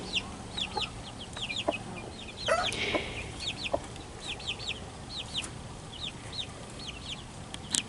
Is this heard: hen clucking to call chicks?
yes